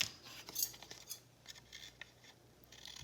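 Scissors snip and trim the sides of a paper junk-mail envelope pocket, a few quiet close crisp cuts with soft rubbing between.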